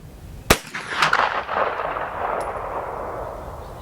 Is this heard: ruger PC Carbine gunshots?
yes